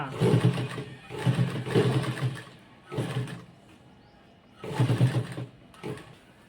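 A sewing machine stitches a small child's langa skirt, running in four close, loud whirring bursts separated by short pauses.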